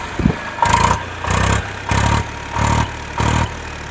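An Eicher 368 tractor engine idling nearby, its low diesel throb rising and falling in regular pulsing bursts about every half second, with no talk.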